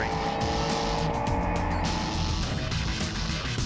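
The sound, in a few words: AMG GT3 race car on track at Sandown Raceway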